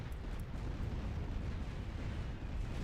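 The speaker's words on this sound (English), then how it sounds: "Yeah, it's a blind bombing run." Bombing run in the real-time strategy game Art of War 3, a steady, dense rumble of explosions and low booms that continues unbroken and fairly loud throughout, with no clear individual blasts standing apart.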